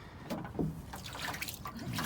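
Water trickling and dripping out of a flooded rear diffuser on a four-cylinder car, a faint, close, irregular splashing dribble with no talk over it.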